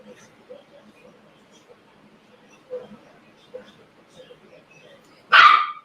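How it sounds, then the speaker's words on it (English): A pet dog named Dixie gives a single sharp bark near the end while playing with her toy, after a stretch of quiet room sound with faint background voices. "She's playing with her toy, barking at the toy."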